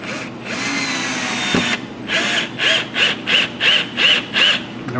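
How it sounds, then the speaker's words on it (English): A power drill drives Torx head deck screws, starting with a long continuous whir, then a run of short, evenly spaced pulses as the driver bursts on and off, loud and close. "These are our deck screws. They're Torx head deck screws."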